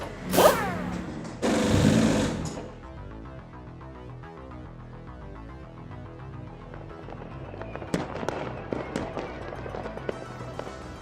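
Fireworks going off at night during the Spa 24 Hours race: two loud bursts at the start, then a quieter rumbling stretch before a rapid run of crackling pops near the end.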